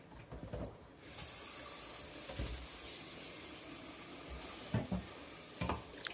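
Peeled, deveined shrimp are rinsed in water for Japanese soy-sauce pickled shrimp, with a steady rush of running water, splashing, and sloshing stirs in a sink, close and continuous.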